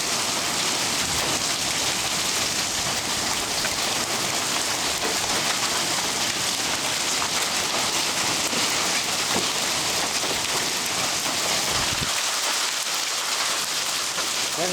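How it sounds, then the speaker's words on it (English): Hail pours down steadily during a storm at Hudson Bend, Texas, a dense, loud, continuous hiss and patter of ice striking surfaces that fills the whole stretch without a break. "Here comes the hail."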